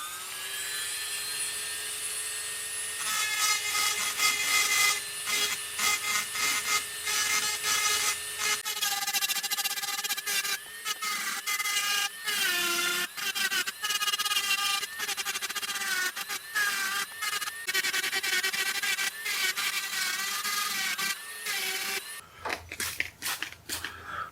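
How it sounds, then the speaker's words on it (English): An Artus 2000 high-speed rotary motor, similar to a Dremel, whines steadily and grinds in bursts against black opal rough while cleaning it, close by and continuous before cutting off near the end. "So I'm using an Artus 2000 high-speed motor. It's a bit like a Dremel."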